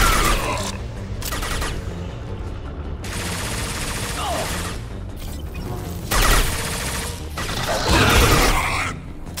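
Gunfire from a sci-fi shooter firefight in Mass Effect 2, with dense bursts of rapid shots and booms layered over a busy battle soundscape, louder surges near the end.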